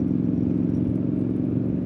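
Triumph Street Scrambler motorcycle ridden on a road, a steady loud engine drone with low harmonic rumble and faint clatter, continuous and close without pause.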